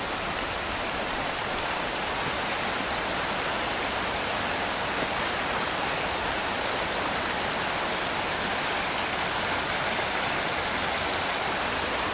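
River water flowing past Ness Islands makes a steady, dense rushing roar that stays even and unbroken throughout, close and loud with no voices.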